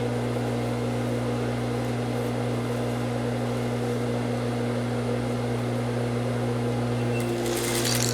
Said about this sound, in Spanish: ahora lo que voy a hacer es que voy a empezar a coser